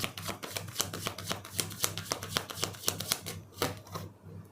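Tarot cards are shuffled by hand in a quick run of close, crisp riffling snaps with a fairly regular rhythm. The shuffling stops just before the end, and no one speaks.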